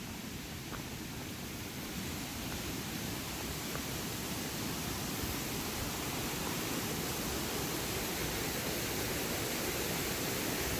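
Roaring waterfall heard as a dense, steady wash of broadband noise that slowly builds in loudness, fairly distant and unbroken, with no voices.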